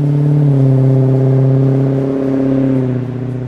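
A deep, throaty 440 V8 engine in a restomod 1972 Dodge Challenger idles loudly nearby, then revs in a steady low growl that eases off toward the end.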